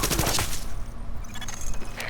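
Sustained gunfire in The Division, a dense clatter of automatic weapons and overlapping shots filling the whole stretch loudly, with no talk over it.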